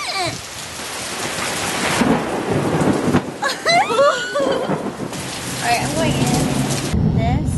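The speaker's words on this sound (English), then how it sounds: "This is like downpour." Heavy rain downpour in a thunderstorm, a loud continuous wash of rain with rumbles of thunder, and brief voices and laughter heard alongside it.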